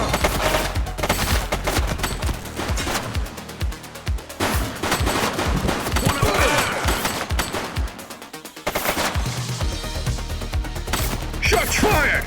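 A suspect opens fire in the police video game The Precinct, sustained bursts of loud automatic gunfire with brief pauses, close and harsh, one short lull near the end before the shooting resumes.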